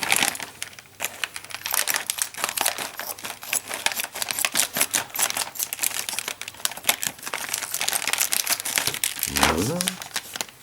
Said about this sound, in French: Alors, nous allons donc déballer les pièces.